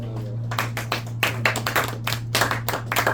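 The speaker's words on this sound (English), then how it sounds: "shall we give Evelyn a round of applause?" A small classroom of students claps for a classmate, a brief scattered round of hand claps close by over a steady low hum.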